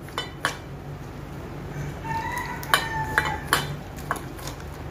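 A utensil mixes gram flour (besan) batter with water in a bowl for jackfruit seed chops, giving soft, irregular clinks and scrapes over a steady low hum.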